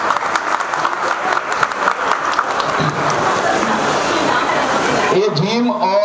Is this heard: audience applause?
yes